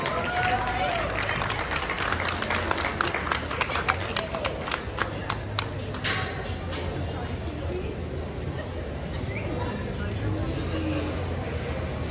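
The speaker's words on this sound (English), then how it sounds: "let's commend them as they head back with a round of applause" An audience at a county fair show ring claps for young pig showmanship exhibitors heading out, a burst of scattered clapping in the middle over a constant crowd murmur and hall noise.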